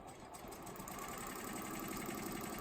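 Sewing machine stitching a quarter-inch quilt seam while piecing flying geese units, a steady, quiet, continuous mechanical whir and rapid stitching hum with no voice over it.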